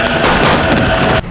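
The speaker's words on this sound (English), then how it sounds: "The gunfire ends" A loud, dense burst of rapid gunfire during a SWAT team assault on a militant stronghold in a film scene, cutting off abruptly at the end.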